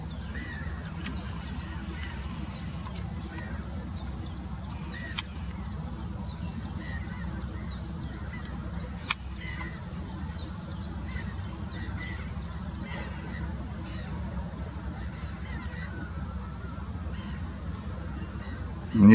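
A flock of black-headed gulls calls over a lake or river, with many overlapping harsh squawks and cries at a moderate distance over steady water and wind noise.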